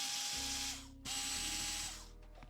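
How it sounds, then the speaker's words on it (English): An electric screwdriver whirring as it backs screws out of a JBL Tuner 2 speaker, two steady buzzing runs with a short pause between them, close and fairly loud. "we'll get our electric screwdriver and just pop him in the top"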